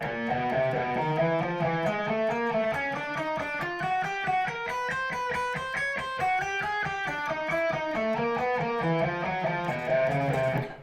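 A clean electric guitar plays a steady run of single picked notes, stepping up and down in an even finger-exercise pattern, with no talking.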